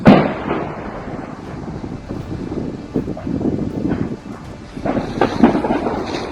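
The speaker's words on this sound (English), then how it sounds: "Here you can clearly hear the sounds of shells exploding right in the city." Deep, rumbling booms of artillery shells exploding in a city roll through the air, several heavy blasts rising and fading over steady wind noise, with no voices.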